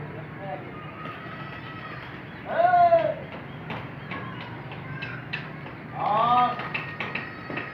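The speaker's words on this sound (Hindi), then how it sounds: "अब अपने कबूतर जो हैं अभी वापसी आ रहे हैं।" Pigeons kept for pigeon flying make soft cooing calls in two short bursts, with a voice talking over a quiet outdoor background between them.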